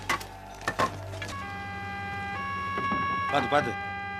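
An ambulance siren in a Tamil film drama holds steady, sustained tones as the vehicle arrives, with a few knocks at the start and people talking over it.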